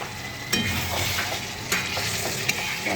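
Ash gourd stir-fried with chili powder and salt in a hot pan: continuous close sizzle with periodic sharp scrapes and clinks of the spatula against the pan.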